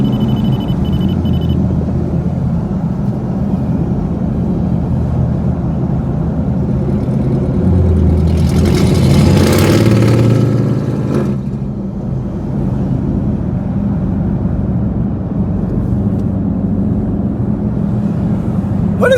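Camaro SS and Challenger 392 V8 engines rumbling at a street meet, a steady low idle with one louder rev swelling around the middle before settling back, fairly close and alone with no talk.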